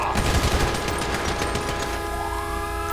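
Rapid indiscriminate gunfire erupts in a GTA V police shootout as a door opens, dense bursts of shots over a siren-like wail, loud and close throughout.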